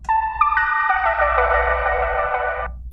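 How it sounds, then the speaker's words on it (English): A horn sample in a hip-hop beat: sustained, bright brass-like tones that swell in, bend slightly downward, and hold for a couple of seconds before stopping abruptly. "I put this horn sample in there."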